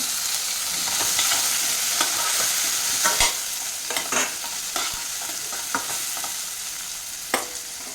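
Chopped tomato frying with browned onions in a pan for dal tadka, a continuous sizzle broken by frequent scraping and clacking stir strokes, close and without speech.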